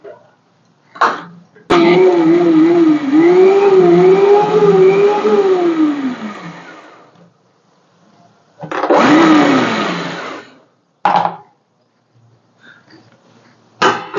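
A kitchen mixer grinder whirs in pulsed bursts while grinding salt: a short blip, a long whining run whose pitch wavers and falls, then two shorter bursts with quiet gaps between.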